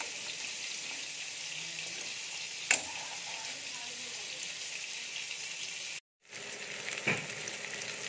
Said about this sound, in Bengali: পটলটাও ভাজা হয়ে গেছে, তার উপরে আলুটা দিয়ে দিয়েছিলাম, আলুটাও ভাজা হয়ে গেছে